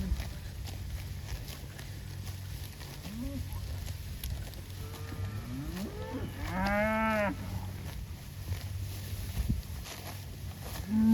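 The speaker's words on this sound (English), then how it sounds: "There it is, Sericea Lespedeza being eaten by cows." Cattle grazing on Sericea Lespedeza moo a few times, low groans building to a loud drawn-out moo, over steady outdoor background hiss and faint shuffling.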